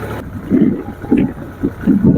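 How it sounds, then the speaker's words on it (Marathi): A farm tractor hauling a 5,000-litre tank runs close by in Shiroli, making a rhythmic, low throbbing chug that pulses about four times over the span, with a light rush of wind behind it. "मजा घेतोय ट्रॅक्टर चालू"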